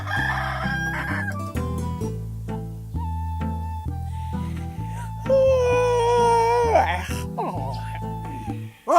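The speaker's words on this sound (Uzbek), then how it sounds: "Anavi xo'rozing tong sahardan qichqiraverib, bezor qilardi." A rooster crows at dawn, long drawn-out calls set against a busy musical backing, with voices present in the scene.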